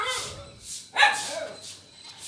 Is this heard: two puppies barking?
yes